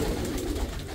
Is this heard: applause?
no